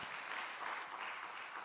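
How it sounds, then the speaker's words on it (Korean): A church congregation applauds the young people during a Sunday afternoon service, producing a steady, soft patter of clapping that stays fairly distant and even throughout. "우리 청년들을 위해서 박수 한번 해주시겠습니다."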